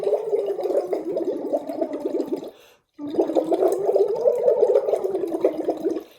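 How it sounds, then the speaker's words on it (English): Bubbles blown through a straw into water during a straw phonation singing exercise, a steady close bubbling with a sustained hummed pitch that stops briefly near the middle, then resumes. "Now my bubbles are really, really boiling."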